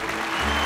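An audience applauds a singer at a Christmas Boxing Day TV variety show, producing a short, dense burst of clapping that holds steady and close.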